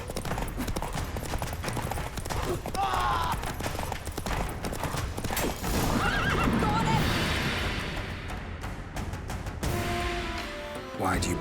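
Roach, a horse in The Witcher 3, gallops with clip-clop hooves and lets out loud neighs over a dense game soundscape with music and effects, with brief voices around it.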